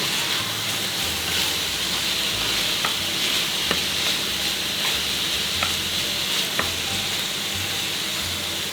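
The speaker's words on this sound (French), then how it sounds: "ce mélange bouillon ainsi que sauce soja ira déglacer le fond" Stock and soy sauce sizzle loudly in a hot pan during an udon and chicken stir-fry, a dense continuous crackle at close range with faint scraping and stirring over it.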